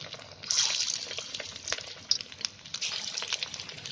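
A hand dips into water while someone shapes minced chicken kofta balls, giving soft, close splashes and a light trickle with small drips, and no talking.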